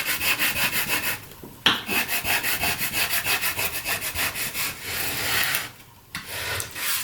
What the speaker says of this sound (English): Give the whole thing a good scrape here.